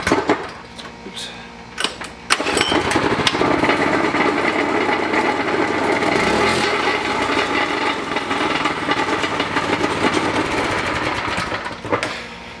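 A Harbor Freight Predator 212 small engine with its restrictor removed runs loud and near, a buzzing high-pitched rattle with sharp throttle blips and snaps early on, then a sustained high rev.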